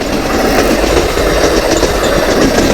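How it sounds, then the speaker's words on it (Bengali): A passing train runs on rails on the journey toward Tarakeswar, with a steady, loud rumble and faint clickety-clack of wheels that continues throughout without pause. "আর ট্রেনটাও ছুটে চলেছে"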